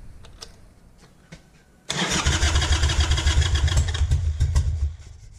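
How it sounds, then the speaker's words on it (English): Harley-Davidson Sportster motorcycle started with the choke off: quiet clicks, then the engine catches abruptly and runs with a loud, rough, throbbing idle for about three seconds before cutting out. "We're going to try and start it with the choke off."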